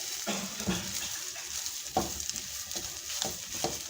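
A spoon stirs potato samosa filling in a frying pan, with repeated scraping strokes over a steady background sizzle, close and moderately loud.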